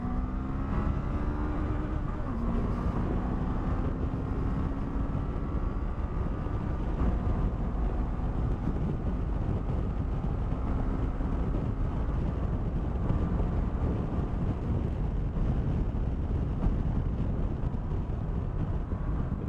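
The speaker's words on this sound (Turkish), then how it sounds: "Dik durduğumda bana biraz rüzgar geliyor." Steady, heavy wind roar buffets the microphone throughout while riding a Honda NX500 motorcycle, with a faint engine drone running underneath.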